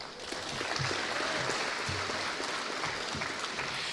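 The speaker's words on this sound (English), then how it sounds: "Now that I got your clapping hands warmed up" An audience at a state civics bee for middle schoolers claps steadily, a moderate, even patter of many hands with no voices over it.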